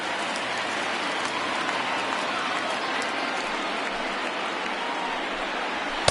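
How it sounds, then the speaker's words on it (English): A baseball stadium crowd at a Rays versus Red Sox game rises and cheers on a full 3-2 count, a dense, steady roar of many voices with scattered claps, sustained evenly throughout. "Crowd gets up for the 3-2."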